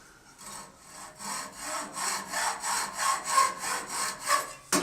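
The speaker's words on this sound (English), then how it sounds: "I'll just cut it off with a hacksaw." A hacksaw cuts through the wood of a turned spinning top in about a dozen even back-and-forth strokes, a close rasping rhythm that speeds slightly before ending with a sharp knock.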